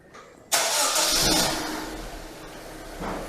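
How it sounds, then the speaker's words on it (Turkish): A 2016 Honda Civic engine fires up after a remote start from a phone app, with a sudden loud crank and catch that settles into a steady, close idle. "Aracımız çalıştı."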